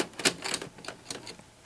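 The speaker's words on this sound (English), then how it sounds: "let's pop the tape in." VHS tape pushed into a 1990 GE two-head VCR, giving a quick run of close plastic clicks and mechanical clacks as the loading mechanism grabs the cassette, no voices.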